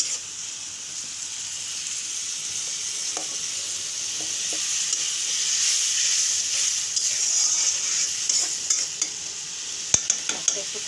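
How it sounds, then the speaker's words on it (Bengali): A vegetable curry of carrot, potato and pointed gourd being sautéed in a pan gives off a steady sizzle. Several sharp scrapes and clinks from stirring come near the end. "একটু ঢাকা দিই, ভালোভাবে কষায় নিই।"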